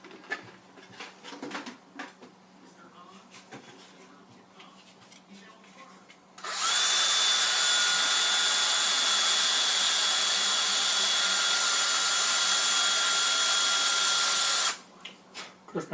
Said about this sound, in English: So I'm going to sand a little bit there.